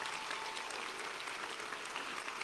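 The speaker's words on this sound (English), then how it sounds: "Would you please applaud our academic deans?" A graduation audience at a college commencement applauds the academic deans, a steady, even wash of clapping from a large, fairly distant crowd with no talking over it.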